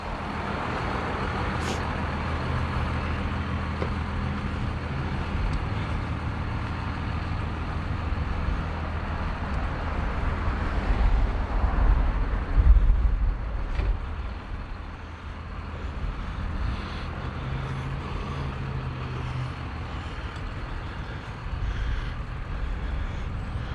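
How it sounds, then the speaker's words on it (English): A FedEx delivery truck drives alongside on a small-town road, its engine rumbling low and steady with passing traffic noise, swelling briefly louder midway before settling back to a constant drone. "I got FedEx truck keeps pulling up next to me."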